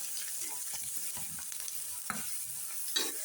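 Onion and peas frying over medium gas, a continuous bright hiss with soft, irregular stirring scrapes and a small clink near the end.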